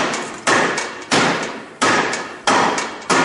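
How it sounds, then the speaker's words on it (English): A hammer taps the rear axle of a Honda TRX300FW ATV out through its brake panel in a repair shop. Five loud, close, ringing metallic blows land at an even pace, each decaying before the next. "just going to tap that on through so you can see the whole brake panel moving away with the axle"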